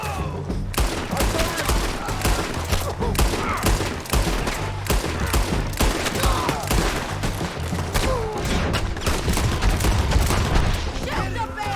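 Rapid gunfire in the Red Dead Redemption 2 video game: dense, loud volleys of shots and booming impacts crowd together without a break, mixed with game music and effects for about twelve seconds.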